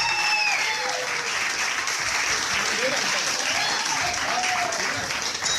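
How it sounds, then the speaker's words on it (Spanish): Audience applause at a Spanish-language cultural event, a continuous wash of clapping that holds steady throughout, with faint voices and whistling tones mixed underneath. "Un aplauso para Juan de Italiano, Luis Bravo, Pedro Rocha."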